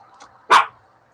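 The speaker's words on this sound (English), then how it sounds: "Sorry about all the dog communicating going on." A single sharp dog bark rings out close and loud, preceded by a faint yip, over quiet room tone.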